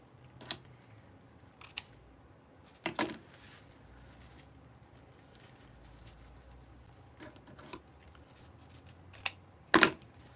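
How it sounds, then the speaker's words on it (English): Very sharp scissors make sparse, crisp snips, some single and some in quick pairs, separated by quiet gaps with no talking. "these probably are the sharpest scissors I have ever owned"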